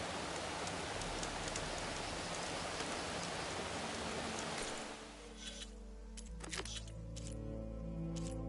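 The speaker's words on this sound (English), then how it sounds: "Down to a drizzle. Almost over." Steady heavy rain hisses across the first five seconds, then thins to a light, patchy drizzle with scattered drops in a Horizon Forbidden West outdoor scene.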